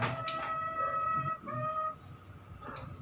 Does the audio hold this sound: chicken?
yes